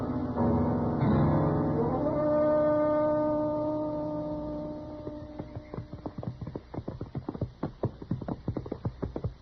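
Horse hooves clip-clop in a steady, brisk series of sharp strikes, rising out of a fading sustained tone and carrying on to the end, fairly close with no talk.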